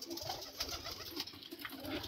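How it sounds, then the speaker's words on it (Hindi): Pigeons in a loft give soft, low repeated coos against a steady background hum. The calls are faint to moderate, with no talk over them. "एक कबूतर इसके अंदर बंद है ये"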